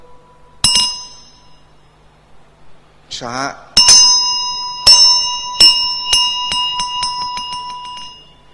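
A khanh, the Buddhist ritual chime that signals the bows at an ordination ceremony, rings out in clear metallic strikes, one early and then a spaced series of ringing hits, with a voice chanting briefly between them.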